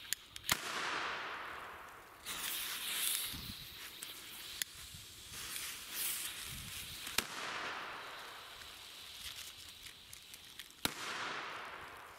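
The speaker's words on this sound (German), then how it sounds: "Sind auf jeden Fall gut laut für aktuelle Böller" Chinese firecrackers, 6-gram bangers, go off outdoors one by one: several sharp loud cracks spaced a few seconds apart, each followed by a hissing, fading noise.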